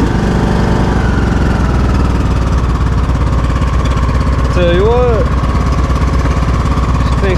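A John Deere riding lawn mower engine runs steadily and loudly at a constant drone throughout, with a brief whistling tone rising above it midway.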